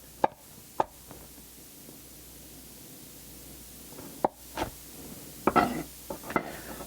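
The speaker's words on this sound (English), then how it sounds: "We're going to slice it in half again." A knife cuts a vegetable on a cutting board for a wild rice salad in a few sharp, separate knocks, spaced irregularly, close and clear over a quiet room.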